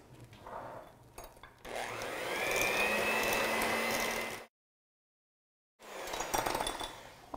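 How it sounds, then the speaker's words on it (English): An electric mixer whirs through cake bar batter with an egg for German chocolate cake bars, starting with short bursts, then running steadily for a few seconds. It cuts out, and after a moment of silence it starts again. "And we're just going to mix it up."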